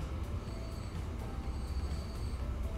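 A steel freight train runs in the game Transport Fever 2, giving a steady low rumble of rolling wagons with faint high metallic tones, continuous and fairly close throughout.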